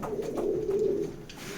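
Racing pigeons in a loft give a low, rolling coo that rises and falls, close and clear over faint background noise, with no one talking.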